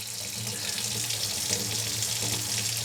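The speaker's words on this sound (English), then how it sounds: "But in terms of just filling up with water or draining water, I think that's a really cool feature." Water pouring from a faucet into a workstation kitchen sink, a steady broad hiss and splash that runs unbroken and close.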